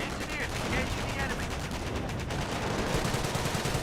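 Battle gunfire in the World War II strategy game Company of Heroes, a steady barrage of overlapping rifle and machine-gun bursts with rapid rattling shots, loud and continuous, with a voice talking under it.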